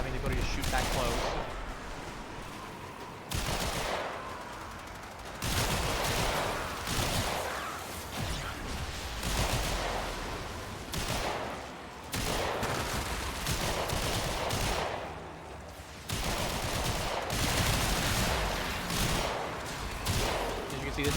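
Warframe weapons fire in repeated rapid bursts with short gaps between volleys, loud and close, mixed with impacts and game effects, while a voice talks intermittently underneath.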